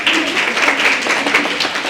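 Audience at a school event in Malout claps together, producing a dense, steady patter of hands that runs continuously and fairly loud throughout.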